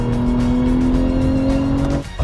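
A 2023 facelifted BMW M340i pulls hard under acceleration, its engine a loud, steady, close drone with a rising tonal note that holds throughout before easing off near the end.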